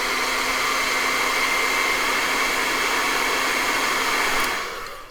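Hair dryer blowing to dry acrylic paint, a steady loud whirring rush with a constant tone that runs evenly and then tapers off as it shuts down at the end.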